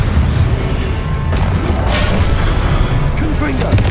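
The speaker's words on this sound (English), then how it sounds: "Expelliarmus." Disarming spells cast in combat in the Hogwarts Legacy video game: loud, dense booms and crackling magical blasts layered one after another without a break.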